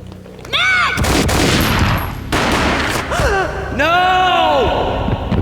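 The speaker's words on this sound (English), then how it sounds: "A gunshot boomed and she fell down in slow motion." Gunfire in the PC shooter Max Payne: loud sharp blasts and bursts of shots, mixed with gasps and cries from figures in the scene over a few seconds.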